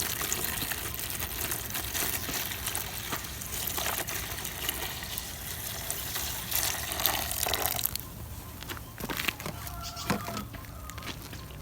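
Water poured from a tap or container into a urine mixture for an apple-tree pesticide, a steady close rush that later thins, with chickens clucking in the background.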